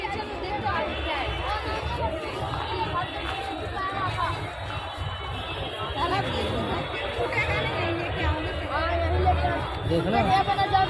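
Dense crowd babble and chatter fill a busy, crowded cheap market in Delhi, a steady close hubbub of many voices and footsteps throughout with no single voice standing out.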